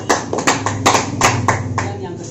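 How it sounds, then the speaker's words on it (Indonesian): A classroom of students claps briefly in scattered, uneven bursts, with several sharp hand claps and talking voices running underneath. "Tepuk tangan."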